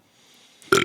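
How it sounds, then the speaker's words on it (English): A short, loud burp bursts out at the very end after near silence, abrupt and close to the mic, with no talking. "Thanks for doing that mid burp."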